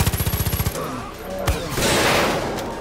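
Rapid automatic gunfire in Far Cry 5 opens with a tight burst of regular shots, followed by a sharp single blast and a louder, washy explosion-like rush that fades out.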